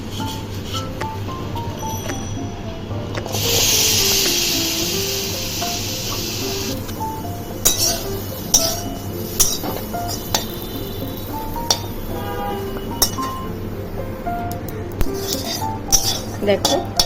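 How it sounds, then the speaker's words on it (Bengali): Nigella seeds, garlic and chilli stir-fried in a wok with a gentle sizzle under repeated metallic clinks and scrapes of a utensil against the pan, spaced irregularly over a steady background hum. "কালো জিরে, রসুন আর এই লঙ্কাটা ভালো করে কড়াইতে নেড়ে নিতে হবে।"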